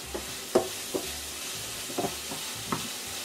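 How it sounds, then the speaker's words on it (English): Mushrooms, onions and celery are stirred in a sizzling pan for Italian rice, with a steady fry hiss broken by several distinct spoon scrapes and knocks against the pan at an irregular pace. "So we're mixing up our mushrooms and our onions and our celery"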